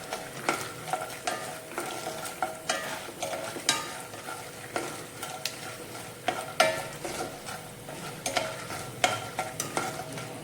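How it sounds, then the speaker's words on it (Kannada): Peanuts fry in oil on a low flame for tamarind rice, a gentle steady sizzle with frequent light rattles and scrapes as the nuts are stirred around the pan, close by and without speech. "ಕಡಲೆಕಾಯಿ ಬೀಜ ಹಾಕ್ಕೊತಾ ಇದ್ದೀನಿ. ಚೆನ್ನಾಗಿ ಸ್ವಲ್ಪ ಫ್ರೈ ಆಗೋದಕ್ಕೆ ಸಣ್ಣ ಊರಿನಲ್ಲಿ ಇಟ್ಕೋಬೇಕು"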